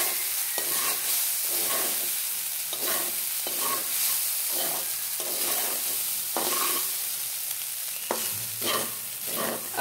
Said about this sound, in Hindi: अब मैं इसे अच्छे से मिक्स कर दूंगी